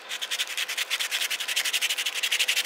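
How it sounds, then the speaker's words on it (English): Sandpaper wrapped around a thumb rubs across a hand-carved wooden bowl, a steady rhythmic scratchy hiss of quick back-and-forth strokes, close and alone with no voices. "I wrapped the sandpaper around my thumb"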